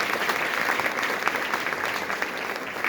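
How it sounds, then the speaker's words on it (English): A school hall audience at a high school prize giving applauds the teachers, a loud, dense and continuous wash of clapping from many hands with no pauses. "give a huge round of applause to all the teachers who are here today"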